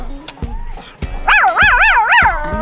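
An old dog gives a short run of barks and yips that swell into a wavering, howl-like cry, close by and fairly loud, with a few short sounds in between.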